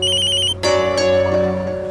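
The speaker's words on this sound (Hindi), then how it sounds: "अरे गुप्ता जी का फोन।" A phone ringtone plays loud and close, a repeating electronic melody that shifts into a sustained ringing chime over less than two seconds.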